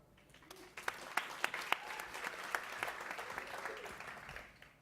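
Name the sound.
audience applause at a business awards ceremony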